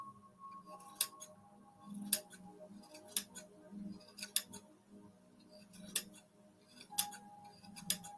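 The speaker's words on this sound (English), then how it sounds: "These are fabric scissors" Fabric scissors snip through yarn while trimming a pompom, sharp crisp cuts about one per second, close by, with a faint low hum underneath.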